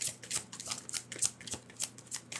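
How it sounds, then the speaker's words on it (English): A tarot deck being shuffled by hand, close up, with a quick series of papery riffling bursts repeating in an uneven rhythm and no talking. "I'm going to use a different deck. This one's taking forever to shuffle."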